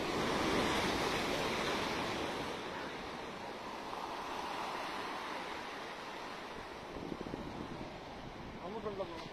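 Ocean waves at Varkala beach roll in as a broad, continuous wash of surf, swelling loudest at the start and easing into a steady roar mixed with wind noise; a voice speaks faintly in the background.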